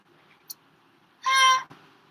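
An indoor cat gives one loud, drawn-out meow, close and clear, set against quiet background noise.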